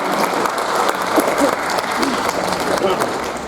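An audience applauds at a discussion event, a steady wash of clapping hands lasting the whole stretch at even loudness, with no speech over it.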